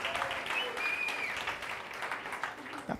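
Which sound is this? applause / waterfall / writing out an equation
applause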